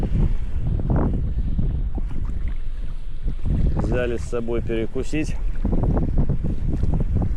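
Strong wind buffets the microphone on open water from a small boat, a constant roaring rumble while someone speaks over it.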